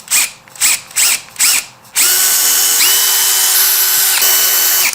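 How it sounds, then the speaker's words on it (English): A power drill whirs in four short bursts, then runs continuously at a steady high pitch, loud and close, drilling holes with 3/16-inch and 1-inch bits into a 2019-2024 Chevrolet Silverado or GMC Sierra. "So let's get to drilling."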